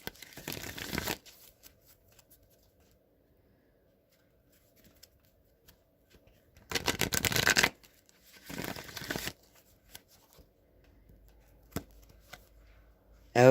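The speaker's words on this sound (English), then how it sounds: "I'm going to shuffle this deck 3 times and get 3 cards as a final message" A tarot deck is shuffled by hand in three separate bursts of riffling card noise, each about a second long, with quiet pauses between them and no talking.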